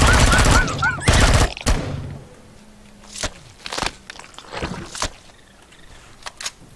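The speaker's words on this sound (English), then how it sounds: "Finish the episode with a little assault rifle action." Assault rifle fire in the video game Empyrion Galactic Survival: a loud opening burst of rapid shots, then scattered single cracks and short bursts with pauses between them.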